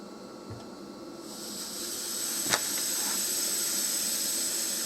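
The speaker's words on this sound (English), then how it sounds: "So I'm going to light up this little stove." A small wax-fuelled stove is lit, its faint background hiss swelling into a steady, louder rushing hiss after a sharp click-like burst, continuing evenly to the end.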